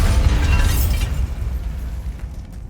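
A Bombarda blasting spell explodes in the video game Hogwarts Legacy: a loud, deep boom with a crackling burst that then rumbles and fades away over a few seconds, with no talk.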